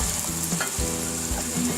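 Masala fries in a pan for aloo methi, a steady close sizzle with a few soft stirring scrapes and no voices.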